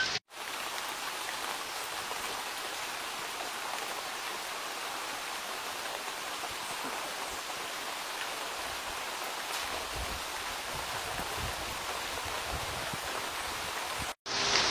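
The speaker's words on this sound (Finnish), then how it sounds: "sade on yllättänyt täällä viidakossa seikkailijat. Aivan järjetön kuuro tulossa." Steady downpour of a heavy rain shower in the El Yunque rainforest, Puerto Rico, a dense continuous patter with no talking, unbroken from start to end.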